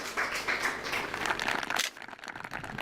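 Audience applause at a Hindi farmers' quiz show on paddy cultivation, dense steady clapping for about two seconds before dropping to a thinner patter.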